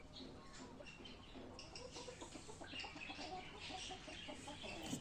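Arab-breed chickens clucking continuously over a busy farmyard background, with scattered short calls layered throughout and no talking.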